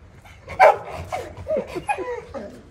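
A dog in Tehran lets out a string of short, pitched barks and yips at close range, the loudest near the start, with smaller whimpering calls following in uneven bursts.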